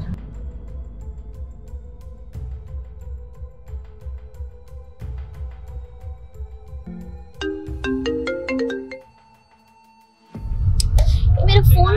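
A phone ringtone plays a repeating melodic tune with chimes over a low background hum, then a brief pause and louder rumbling noise.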